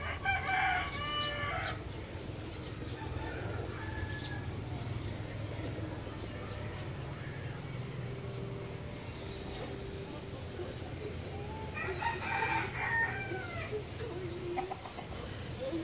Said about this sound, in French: Les coqs qui vivent en liberté.